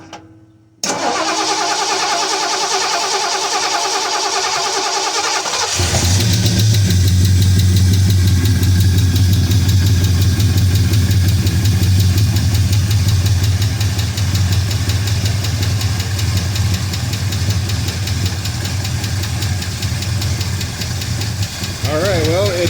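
A 1974 Ford LTD engine cranks briefly, catches and settles into a steady, loud idle that runs on continuously, with a rough low rumble close by.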